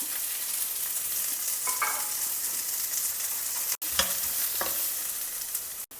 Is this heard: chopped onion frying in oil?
yes